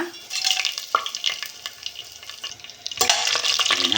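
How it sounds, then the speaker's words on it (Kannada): Whole spices such as cinnamon, cloves, bay leaf, marathi moggu and star anise fry in hot oil for chicken biryani, a steady crackling sizzle with scraping stirs and a louder burst of frying near the end, with no talk. "ಆಯಿಲ್ನಲ್ಲಿ ಚೆನ್ನಾಗಿ ಫ್ರೈ ಮಾಡ್ಕೊಳ್ಳೋಣ."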